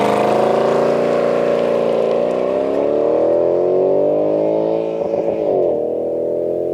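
Naturally aspirated all-aluminium V8 of a Mercedes SL 63 AMG (R230) roaring loudly and steadily, its pitch slowly rising as it revs, then dipping and wavering briefly near the end, with no talking over it.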